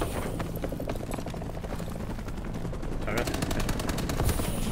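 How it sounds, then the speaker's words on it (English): Rapid gunfire in a team-based shooter video game, dense repeated shots running steadily through the whole stretch under game noise, with a voice briefly talking. "Please stop shooting."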